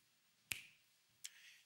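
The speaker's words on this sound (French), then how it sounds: "On met tout ça ensemble et on a le son du claquement de doigts." Two crisp, isolated finger snaps, about three-quarters of a second apart, each a sharp, bright click with a short ringing tail, heard alone against near silence.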